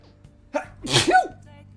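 A single loud, sharp human sneeze with a quick inhale build-up, close and clear, against a faint low hum, with a brief short tone trailing after it.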